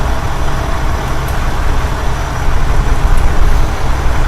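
Loud fire truck engines idling in the Emergenyc fire academy video game, a constant deep diesel rumble with a low throbbing drone that swells slightly near the end, with no voices.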